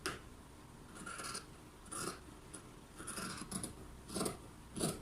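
Scissors snipping through dress fabric along a curved neckline, several crisp cutting strokes in uneven rhythm, close and quiet with no speech.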